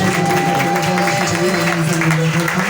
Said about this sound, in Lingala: Est-ce qu'on peut acclamer pour le frère?